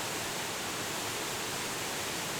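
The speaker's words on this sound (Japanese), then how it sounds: "山の方へ 雫の滝へ立ち寄りました" The Shizuku waterfall in the mountains near Susami, Japan, pours as a dense, steady, broad rush of falling water, close and continuous with no breaks or other sounds.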